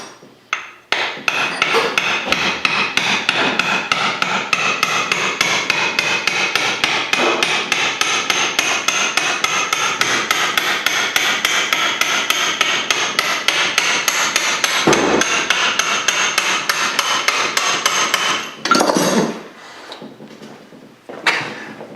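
A hammer taps a shaft out of a South Bend 10K lathe in a workshop, striking in a steady, rapid run of sharp metallic blows for nearly twenty seconds before a brief pause and a few final hits.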